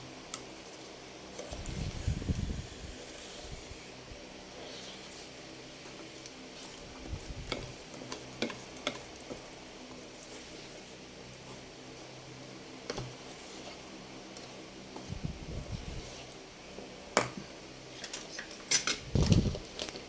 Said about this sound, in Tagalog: ako na maghalo.